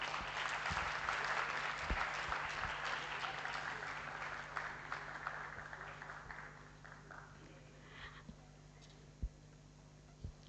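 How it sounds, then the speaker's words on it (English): A large audience applauds at a pharmacology conference session, dense clapping filling the hall loudly at first and gradually thinning and fading toward the end, with a few isolated claps standing out. "A huge round of applause for all of them."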